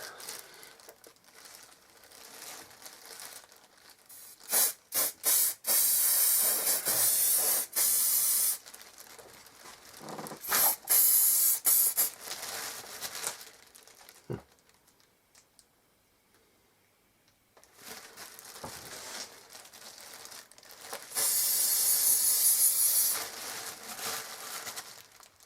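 Aerosol hairspray can spraying in several long hissing bursts with quiet gaps between them, along with clicks and crinkly handling noises close to the microphone.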